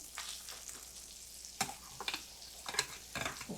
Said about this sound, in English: Do you hear the sizzle? All right, so steaks are going in.